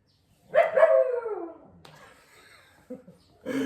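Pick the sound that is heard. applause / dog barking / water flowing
dog barking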